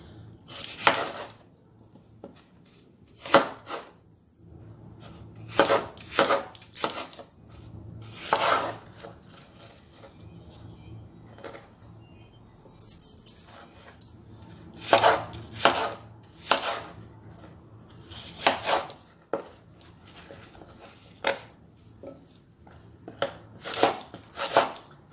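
Apple being chopped on a cutting board for a salad, with sharp knife strikes coming in irregular bursts of several quick chops separated by short pauses, close and clear.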